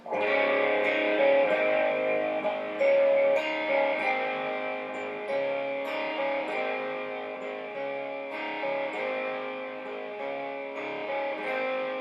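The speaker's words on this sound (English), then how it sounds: "There's a little arpeggio played underneath there." A distorted electric guitar plays a steady, ringing arpeggiated rhythm pattern, notes picked one after another in a continuous flowing figure.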